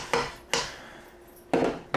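A spoon clanks and scrapes in a pot of butternut squash soup with veggie broth, three or four sharp knocks spaced apart as the ingredients are stirred and coated, close and alone.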